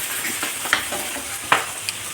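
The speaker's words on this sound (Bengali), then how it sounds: "চিংড়ি মাছটা ভাজতে বসিয়েছি।" Prawns sizzle in a pan with a busy frying hiss, broken by a few sharp spatula taps and spits, close by with no talk.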